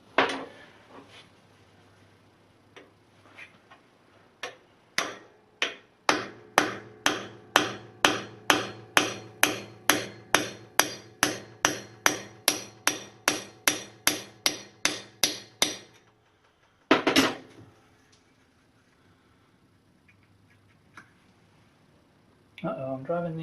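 A hammer drives a bushing out of a Logan Model 1925 lathe headstock: about two dozen evenly spaced, ringing metallic blows fall in a steady rhythm, then stop, followed by a few isolated knocks near the end.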